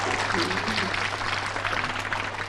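Applause from an audience at a talk on peace in Bali, a steady dense clapping wash held at even loudness for a couple of seconds with no voice over it.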